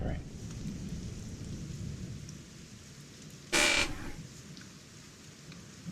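Rain and thunder from a video game: a steady wash of rainfall runs throughout, broken by one sharp, loud burst of thunder midway before the downpour carries on at a lower level.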